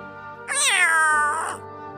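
A cat in the Final Fantasy VII Ever Crisis video game gives a single drawn-out meow, clear and close, with quiet background before and after.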